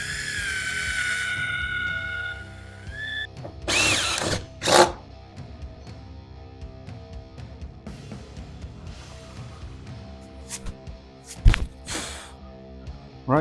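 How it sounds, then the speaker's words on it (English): A drill with a 3/8 bit bores a pilot hole through the roof of a GMC Sierra or Chevy Silverado pickup for a cab light: a high whine winds down, then come a few short bursts, thunks and scattered handling clatter. "we got our 3/8 drill bit. Now we're going to do the outside holes."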